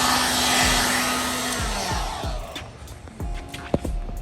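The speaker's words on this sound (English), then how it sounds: "You also want to grab a heat gun," A heat gun blows a loud, steady hot-air roar that fades away after a second or two, followed by light handling knocks and taps near a Vicrez GT350 Track Pack rear spoiler on a 2015-2020 Ford Mustang.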